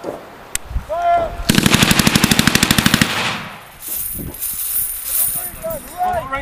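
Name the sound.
machine guns firing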